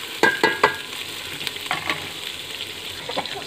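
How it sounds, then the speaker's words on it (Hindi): Cubed potatoes fry in a pan, opening with three quick metallic clanks, then a faint, steady sizzle with a few soft stirring scrapes, close by. "2 से 3 मिनट मैंने आलू को फ्राई किया है"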